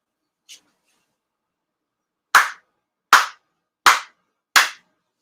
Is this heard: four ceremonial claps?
yes